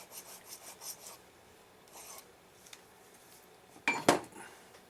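A silver bar being filed flat for a pendant, with a few soft rasping strokes and then a sharp metallic clink as the piece is knocked or set down, close and fairly quiet.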